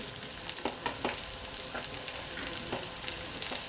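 Chopped beans and carrots stir-fried with garlic in hot oil, a steady close sizzle broken by sharp scraping and tossing clicks of the spatula at an irregular rhythm, no voices.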